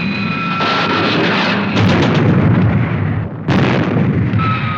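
Cannon fire aimed at a pirate ship, heard as loud, sustained booming blasts with a brief dip before a second roaring burst, no voices.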